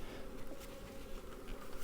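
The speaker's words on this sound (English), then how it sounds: "Some of them's flying bees, but that's okay." Honeybees fly around an opened Taylor Yard hive, a dense continuous buzzing swarm close by, steady and fairly loud without any voices.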